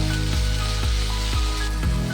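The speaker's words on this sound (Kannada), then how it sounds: "ಎಣ್ಣೆಯಲ್ಲೇ ಚೆನ್ನಾಗಿ ಫ್ರೈ ಮಾಡಿ ಹಾಗೆ ಚಟ್ನಿ ರುಬ್ಬೇಕು." Mint chutney ingredients fry in hot oil with a steady, dense sizzle, broken by regular stirring scrapes about every half second throughout.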